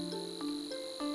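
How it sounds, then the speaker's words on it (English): Insect-like chirps ring out in repeated short bursts, soft and steady, as ambience near water in an Unreal Engine game. "Here, for example, cricket sounds near the water,"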